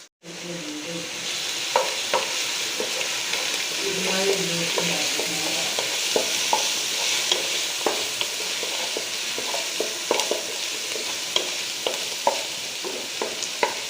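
Chopped garlic and ginger fry in hot coconut oil with a steady, close sizzle, punctuated throughout by light clicks and scrapes of stirring.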